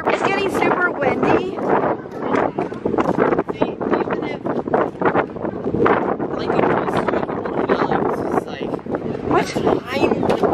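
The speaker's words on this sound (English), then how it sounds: "It's getting super windy." Gusty wind buffets the microphone in loud, rumbling waves while people talk over it throughout.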